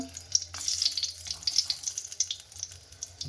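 Dry red chillies and panch phoron fry in hot oil, a crackling, popping sizzle with a watery hiss and irregular sharp spits, fairly quiet and up close.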